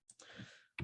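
Keystrokes on a computer keyboard entering figures into software, a few quick, close clicks in a short quiet burst.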